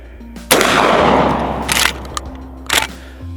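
A handgun fitted with a Cyelee Bull X Pro red dot sight fires one loud, close gunshot with a sharp blast and a decaying echo, followed by a few quieter clacks of handling.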